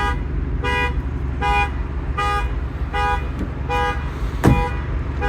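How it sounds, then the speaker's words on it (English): A 2024 Ford Mustang EcoBoost's horn sounds in a steady run of about six loud, evenly spaced toots, with a brief clunk near the end. "horn going off"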